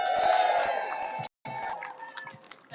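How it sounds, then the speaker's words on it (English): An outdoor crowd at a live democracy event cheers and whoops for a newly introduced MC, a loud, sustained roar of voices that drops out for an instant and then resumes. "Give a cheer out for Ads."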